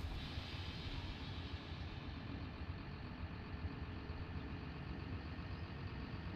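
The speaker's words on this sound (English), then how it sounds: "Just that startup procedure of using the computer screen there to turn the engine on" The engine of a BR 642 diesel railcar in Train Simulator 2018 idles with a steady, low, rumbling drone that holds an even level for several seconds, with no voices over it.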